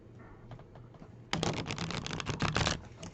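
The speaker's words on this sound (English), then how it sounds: "we need a card shuffling workshop" A deck of playing cards is riffle-shuffled in a quick, loud burst of dense flapping that follows a quieter stretch, heard close up with no talking.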